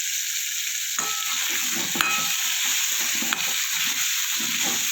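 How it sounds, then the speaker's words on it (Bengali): Chunks of taro (maan kochu) sizzle steadily in hot oil in a pan while a spatula stirs them, scraping and clinking at intervals through the continuous frying hiss. "কচুটা আমার কিছুটা ভাজা হয়ে গেছে"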